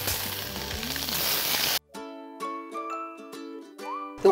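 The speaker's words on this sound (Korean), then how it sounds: "올리브 오일, 마늘 좀 넣으시고요" Garlic sizzles in olive oil in a pan with a bright, crackling hiss for just under two seconds before it cuts off abruptly and gives way to clean, sustained tonal sounds.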